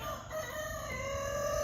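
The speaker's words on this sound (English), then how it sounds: "And my neighbor's obnoxious rooster." A neighbour's rooster crowing nearby: one long, loud, strained cock-a-doodle-doo that fills the whole moment, with no talk over it.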